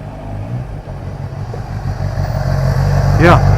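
A 2015 Kawasaki Ninja ZX10R sport motorcycle engine hums steadily, then a sharp pitch sweep rises and falls as the bike zips past fast near the three-second mark, with the roar growing louder toward the end.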